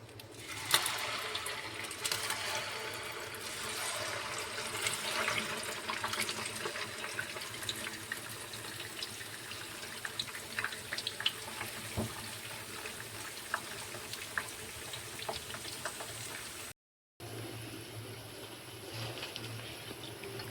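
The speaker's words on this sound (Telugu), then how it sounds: "ఆయిల్ కూడా వేడెక్కింది ఇప్పుడైతే నేనైతే వేసుకుంటున్నాను" Jantikalu snacks fry in hot oil with a quiet, continuous bubbling hiss that is briefly cut off near the end before resuming.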